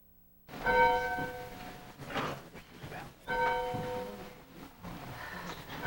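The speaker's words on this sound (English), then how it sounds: "These bells sounded at the beginning of Mass at St. Pacificus Church on September 30th." Church bells of St. Pacificus Church ring out at the start of Mass in several overlapping peals, resonant and clear, swelling and fading in waves.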